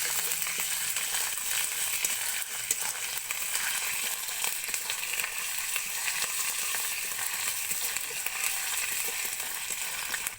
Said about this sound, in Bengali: আদা বাটা দিয়ে কিছুক্ষণ আদাটাকে কষিয়ে নিতে হবে।